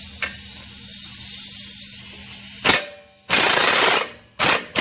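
A 21mm socket on a power tool removing the lower strut bolt of a 2016 Chevy Colorado during a lift kit install: a faint tick, then three loud, close, rattling bursts separated by short pauses.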